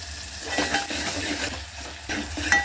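Onion and tomato fry in a pan with salt added, a steady close sizzle running throughout with occasional stirring scrapes and light clinks of a utensil against the pan.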